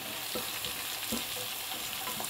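Mixed vegetables (cabbage, capsicum, carrot and beans) frying in a pan, with a dense, continuous sizzle broken by light scraping stir strokes, close and with no speech.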